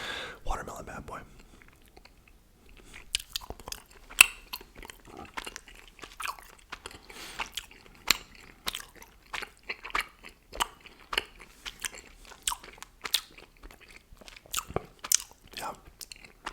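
Chewy gummy candy is chewed and bitten close to the mic, with wet, sticky smacking and small crunchy bites in an irregular rhythm, alongside occasional soft whispering.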